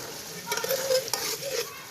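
Peas go into frying masala, and a spoon stirs and scrapes through the pan while an oily sizzle hisses underneath, with a couple of sharp knocks against the pot.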